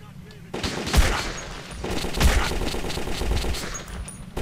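Gunfire in the video game Metro 2033 rattles out in repeated sharp bursts and single shots, fairly close, spread across a few seconds.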